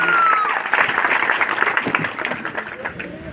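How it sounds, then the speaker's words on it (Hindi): An audience claps steadily, a full round of applause that gradually thins toward the end. "मोहन श्रीवास्तव जी, जोरदार ताली बजा के मोहन जी का स्वागत करिए।"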